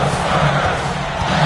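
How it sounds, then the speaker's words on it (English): Basketball arena crowd in the NBA 2K26 video game, a loud, sustained roar of many voices filling the short moment, with a commentator faintly under the noise. "Crowd on pins and needles, Kev."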